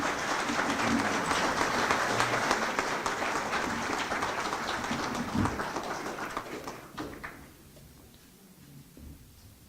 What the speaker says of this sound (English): Please give our candidates a round of applause